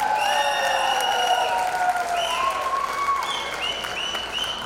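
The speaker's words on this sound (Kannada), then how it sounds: "ಮತ್ತೊಮ್ಮೆ ಜೋರಾದ ಚಪ್ಪಾಳೆ." Loud, sustained audience applause fills the hall after a Lavani dance performance at an anniversary show, with musical tones ringing through and a few voices calling out.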